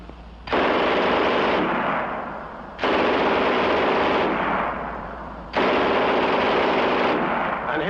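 Three sustained bursts of extremely rapid German MG 42 machine gun fire, a harsh ripping roar, loud and near, separated by brief gaps.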